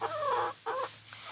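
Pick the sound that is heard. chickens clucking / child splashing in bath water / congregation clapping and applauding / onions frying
chickens clucking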